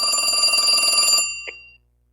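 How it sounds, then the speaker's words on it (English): A telephone rings with a fast, trilling bell that sounds close and loud, then cuts off abruptly followed by a brief click and silence. "is that your phone?"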